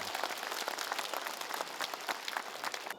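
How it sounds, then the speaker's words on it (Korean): An audience claps at a Buddhist temple's main hall dedication ceremony, a steady, moderately distant round of applause from many people that tapers at the end. "큰 박수로 축하해주시기 바랍니다."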